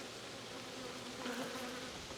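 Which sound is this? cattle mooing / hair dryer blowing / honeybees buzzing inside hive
honeybees buzzing inside hive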